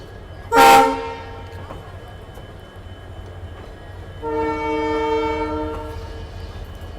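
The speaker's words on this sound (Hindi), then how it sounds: "ये जो डीजल लोकोमोटिव का साउंड आता है ना भाई साहब, गूज बम्स" Diesel locomotive of the Jodhpur Express arriving, its horn giving a loud short toot followed by a longer sustained blast a few seconds later over steady rumbling rail noise.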